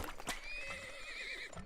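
Horse neigh in the video game Turmoil, a single whinny with a wavering pitch lasting over a second, preceded by a short thump and followed by a brief clop, fairly quiet.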